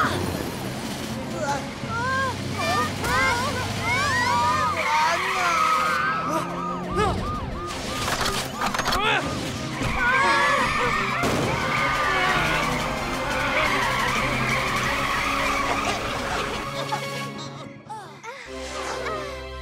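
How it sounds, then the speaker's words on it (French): Fast cartoon car engine with tire skidding in a French-language Robocar Poli children's animation, busy and loud, with music, sirens and characters' voices layered over the driving sounds. "Oh non, Cracra roule vers eux"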